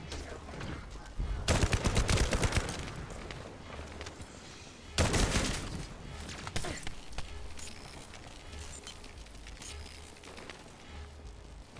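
Two loud bursts of rapid gunfire from a weapon in the zombie survival game 7 Days to Die, each lasting about a second, separated by quieter stretches of faint clatter and scattered single shots.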